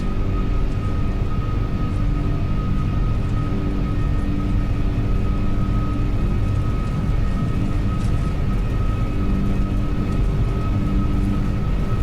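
Airbus A330 jet engines roaring steadily through a takeoff roll in the X-Plane 12 flight simulator, a loud continuous broadband rumble with sustained tonal whine, uniform from start to finish with no talk over it.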